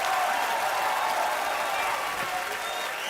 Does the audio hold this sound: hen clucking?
no